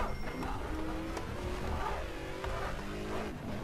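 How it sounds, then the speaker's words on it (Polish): A classic car's engine in the racing video game Shift 2: Unleashed revs and roars continuously with a gritty, steady drone, a few brief squeals and shifts along the way. "Ale dźwięk tego silnika, posłuchajcie"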